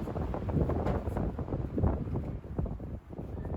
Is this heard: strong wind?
yes